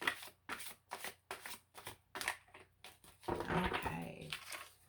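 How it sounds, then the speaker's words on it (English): Tarot cards being loosely shuffled by hand, giving a run of short riffling bursts in an even rhythm, followed by a longer, denser stretch of card noise, all close and fairly quiet. "let's get one more loose shuffle, and then we'll cut the deck"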